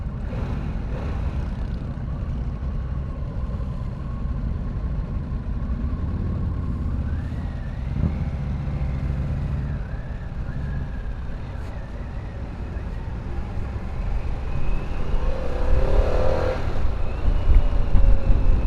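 A 2022 Harley-Davidson Pan America, a big heavy adventure motorcycle, drones steadily while being ridden, its engine rumble blended with wind noise and swelling louder toward the end, with no talk over it.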